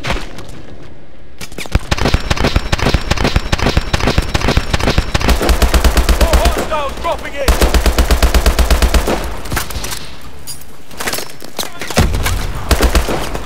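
Rapid automatic gunfire from the video game Call of Duty: Advanced Warfare, loud sustained bursts of rattling shots with brief pauses between volleys, dense and close throughout.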